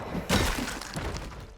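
Window glass breaks in the Project Zomboid video game, a single sudden crash followed by a short trailing clatter of shards, close and fairly loud.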